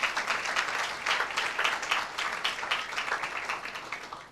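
A church congregation claps steadily throughout, a dense, even spatter of hands at moderate volume with no voice over it.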